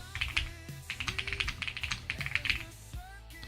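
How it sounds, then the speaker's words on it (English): Rapid clicking of a computer keyboard being typed on, steady bursts of keystrokes close by, with a low background hum. "You guys get to hear my nice, cool keyboard sound."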